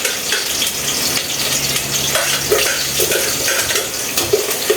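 Onion and garlic sautéing and being stirred in a pan, a steady wet sizzle with scraping stir strokes throughout, fairly close, with no talking.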